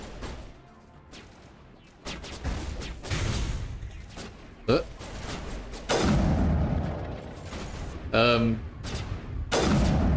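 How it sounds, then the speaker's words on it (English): Explosions and gunfire from a Mass Effect battle, heavy booms and rapid bursts of shots rolling continuously and loudly, with several sharp blasts standing out above the din. "Explosions."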